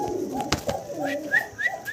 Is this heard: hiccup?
no